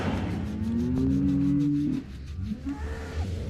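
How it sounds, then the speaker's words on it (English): A cow lets out one long, loud, close moo lasting nearly two seconds, then a couple of faint shorter grunts, with no talk over it. "She's a lovely cow, this one."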